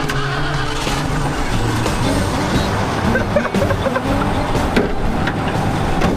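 A motorcycle being reassembled in a garage shop is started by turning it on with a screwdriver, its engine catching and running steadily and loud close by, with music playing alongside.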